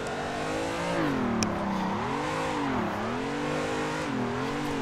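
A drift car's engine in the racing game Assetto Corsa revs steadily, its pitch rising and falling in long waves as the throttle is feathered, with a loud, sustained drone and no pauses.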